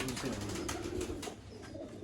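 Pigeons of the original Mian Nazir bloodline coo softly from a rooftop loft, a low steady murmur running through the whole moment with some faint voice-like noise mixed in.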